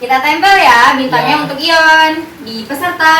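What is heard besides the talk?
No distinct noise like a dog, phone or traffic.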